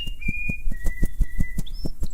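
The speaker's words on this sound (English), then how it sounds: "Bluebird flapped her wings and began to whistle Happy Birthday" Clear, tonal whistled melody of Happy Birthday from a cartoon bluebird in an animated fairytale film, sliding between sustained notes over a soft rhythmic pulsing backing.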